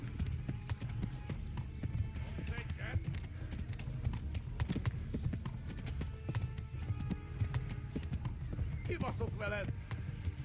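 A horse gallops in the video game Kingdom Come: Deliverance, with steady rhythmic hoofbeats running throughout under someone talking over the game audio.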